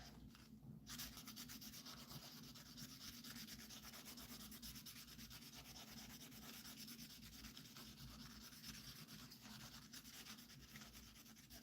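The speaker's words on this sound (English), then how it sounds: "You try to sand it from one angle" Opals being hand-sanded during pre-polishing, a continuous faint gritty rubbing with a fast back-and-forth rasp, steady and unbroken throughout, quiet and close.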